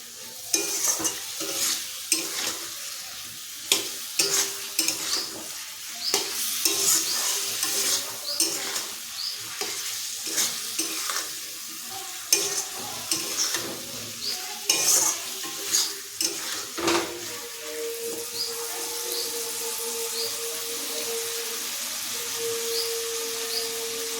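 Fish curry masala, loosened with a little water, is stir-fried in a wok, with a steady sizzle under repeated scraping stirs and occasional clinks of the spatula against the metal, close and continuous with no talking.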